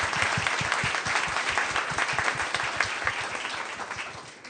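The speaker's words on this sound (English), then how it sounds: "I just want to give a hand clap to our panel for being amazing." A room of business owners at a meetup claps for a panel, a dense close burst of applause that holds steady and begins to fade toward the end.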